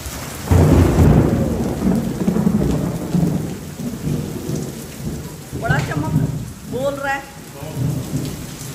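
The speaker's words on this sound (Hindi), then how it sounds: "बहुत बारिश हो चुकी है भाई साहब" Thunderstorm with heavy rain in a village near Jakarta, Indonesia: steady loud downpour with deep rolling thunder rumbles, and a couple of chirpy bird-like or animal calls late in the clip.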